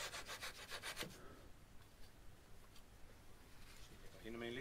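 Wood being sawn off a model airplane wing by hand with a small saw, a close run of quick rhythmic rasping strokes at the start, then quiet room noise and faint knocks, with a brief voice near the end.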